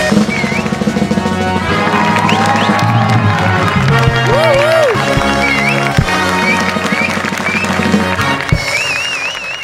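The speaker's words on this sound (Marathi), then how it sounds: "जोरदार टाळ्यांनी स्वागत करूया" A studio audience at a Marathi comedy show bursts into loud, sustained applause and cheering, with whistles and shouts over a continuous clapping roar and music playing underneath.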